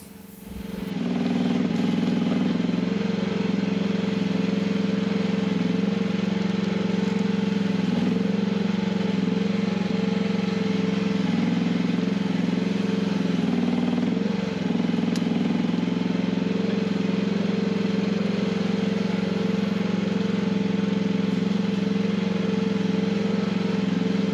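A Chinese mini excavator's engine runs at a steady idle, a continuous low droning rumble with a faint clattering edge, close and constant for the whole stretch with no talking.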